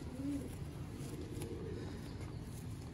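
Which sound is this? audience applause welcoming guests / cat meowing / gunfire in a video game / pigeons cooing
pigeons cooing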